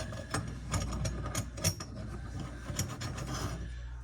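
A sink drain wing nut spun up by hand, giving a steady run of close, gritty ratcheting and rubbing clicks with no talk.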